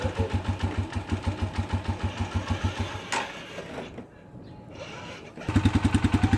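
A Panterra 125cc dirt bike engine idles on choke with a close, rhythmic putter that falters and nearly dies midway, then picks back up to a steady, louder idle.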